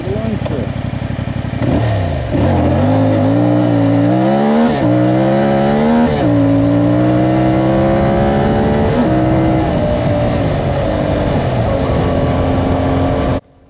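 A CFMoto 450 MT adventure motorcycle is ridden fast off-road, its engine loud and close from a tank-mounted camera, climbing through gears with steady rising pitch and heavy wind rush throughout.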